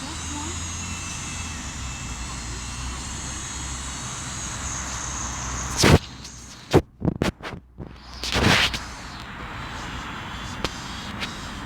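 A drone flies overhead with a steady, droning motor whine, while people talk and loud bursts and thumps break in partway through.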